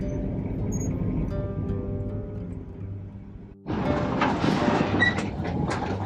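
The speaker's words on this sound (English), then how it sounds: "here we are on the tram out to Lover's Key." Beach tram rolling out to Lovers Key in Fort Myers after a hurricane, a steady low engine drone and rumble heard on board, then a brighter rattling and wind noise as the ride continues.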